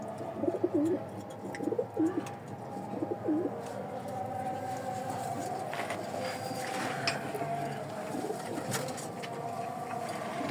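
Soft pigeon coos repeat several times in the first few seconds, close by, over a steady murmur of background noise with scattered faint chirps.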